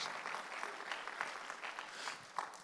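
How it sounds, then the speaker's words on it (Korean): A church congregation applauds during a Sunday sermon, with steady, dense clapping from many hands lasting the whole moment at moderate volume. "박수로 나와주세요"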